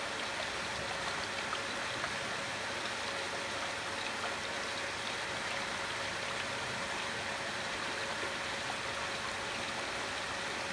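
A pool filtration pump runs steadily, circulating and mixing salted water with a continuous rushing, watery hiss at a moderate level, unchanging throughout.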